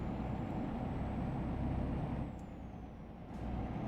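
A truck climbing a hill in a video game, its engine rumbling steadily and heavily with a thin high tone above it, then easing slightly partway through before building again.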